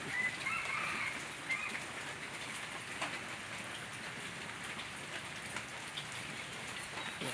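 Rain falls steadily outdoors around a biomass stove production site, a continuous soft hiss of drops hitting surfaces at moderate distance, with a few faint bird chirps early on.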